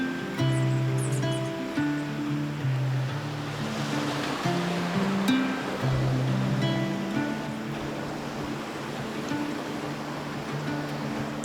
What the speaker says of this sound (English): How pretty are those cascades?